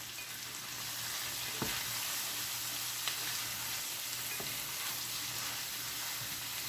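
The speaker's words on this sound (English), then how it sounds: "let's cook them onions a little bit more" Onions frying in a covered pan for a chicken stir fry: a continuous even sizzle with a few soft knocks and clicks, close and moderately quiet, no voices.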